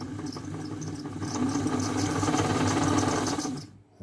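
Singer Model 527 sewing machine motor running steadily up close, a continuous buzzing whir with a fast rattling needle mechanism that swells slightly before stopping abruptly at the end.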